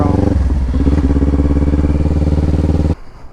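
A 2025 Honda Grom motorcycle engine runs loud and close at a steady idle-to-mid rumble with a throbbing low pulse, then abruptly cuts off, leaving only faint background noise.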